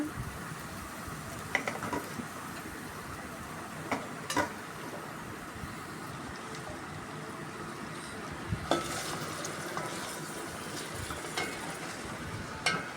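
Ivy gourd (tindora) pieces sizzle softly in hot oil while being stirred, with scattered clicks and scrapes of the spoon against the pan.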